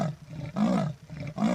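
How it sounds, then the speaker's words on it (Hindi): A jaguar gives its normal call, a rough, grunting roar repeated in three loud bursts with short gaps between them, close and with no other sounds. "जिनकी नॉर्मल साउंड कुछ ऐसी होती है"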